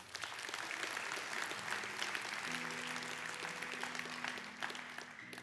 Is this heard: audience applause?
yes